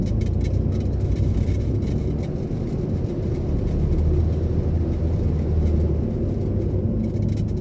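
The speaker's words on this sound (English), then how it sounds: "right there I just shifted" A Chevrolet Corvair's engine drones as it is driven and shifted through gears: a steady, loud low rumble and road noise from inside the car, with no clear break for the gear change.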